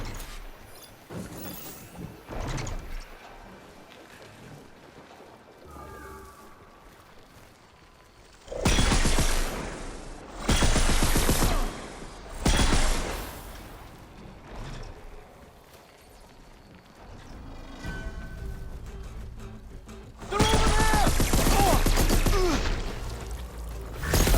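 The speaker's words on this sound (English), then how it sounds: "A better Spectre cannon." A Spectre cannon in Horizon Forbidden West fires in several loud, sustained bursts of a few seconds each, roaring heavily with deep rumble. Quieter stretches of ambient game sound fall between the volleys.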